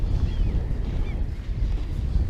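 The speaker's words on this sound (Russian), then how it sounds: "А Роман на веслах вот борется с ветром и волной." Wind rumbles against the microphone with a low wash of lake waves while fishing from a boat, a steady, muffled roar with no clear individual splashes.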